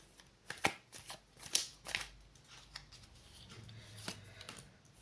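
Tarot cards shuffled close up in a quiet room, giving a few sharp riffling snaps and soft sliding rustles spread across several seconds, with no voices.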